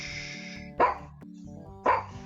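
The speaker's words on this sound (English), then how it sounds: "Good guard dog." Two distinct barks about a second apart ring out over a steady low musical background: a guard dog in the video game The Secret of Monkey Island 2: LeChuck's Revenge, close and fairly loud.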